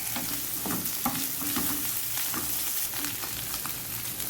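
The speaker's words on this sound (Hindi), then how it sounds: "अच्छी तरह अब इसको फ्राई करेंगे" Keema mince frying in a pan for keema bread, a steady broadband sizzle with irregular stirring scrapes and clicks throughout, close and continuous with no talking.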